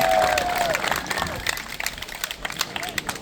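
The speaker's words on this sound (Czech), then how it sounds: "poprosím ještě jednou velký potlesk" Applause and clapping from an outdoor crowd honoring a barbecue team at a grilled piglet contest awards ceremony in Vracov, steady at first and thinning out over a few seconds.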